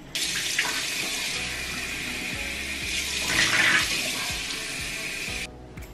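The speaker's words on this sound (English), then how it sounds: "I'm going to clean my face off in the water." A tap runs steadily with water splashing in a sink as a face is washed, a brief louder splash in the middle, then the flow stops abruptly.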